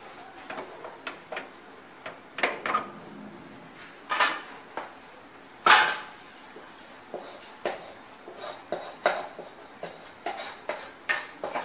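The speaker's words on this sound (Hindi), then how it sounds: "अब हम इसे प्लेट में निकाल लेंगे।" Coconut barfi made with ghee being moved onto a plate: irregular clinks, taps and scrapes of a utensil on cookware and plate, close and fairly distinct, with quiet gaps between, no speech.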